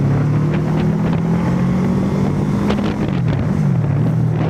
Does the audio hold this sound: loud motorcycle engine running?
yes